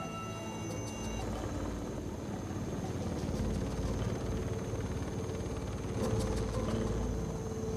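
A helicopter flies over a cut and burned clearing deep in the rainforest, its rotor thrum a steady, low, fairly distant drone that swells slightly in the middle and near the end.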